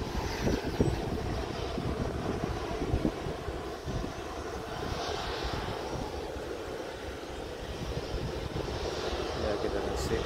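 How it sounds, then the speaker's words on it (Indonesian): Lion Air airplane engines hum steadily at Sultan Hasanuddin airport in Makassar, a broad low roar held for about ten seconds at moderate distance, with people talking over it. "kita saksikan sudah siap pesawat Lion Air"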